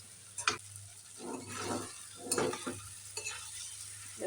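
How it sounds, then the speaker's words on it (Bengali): Fish manchurian pieces with capsicum and soy sauce frying in gravy over high heat, stirred with repeated scraping strokes and a steady sizzle, close and moderately loud, with no talking. "গ্রেভিতে মাছগুলো ভালো করে ভেজে নিচ্ছি অনবরত নেড়ে নিতে হবে"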